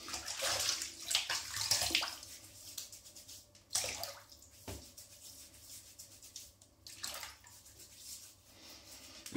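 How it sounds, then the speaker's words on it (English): Water splashing and sloshing as a face is wetted by hand before a wet shave, a series of close, irregular splashes and drips with quieter pauses between. "So I'm going to wet my face now."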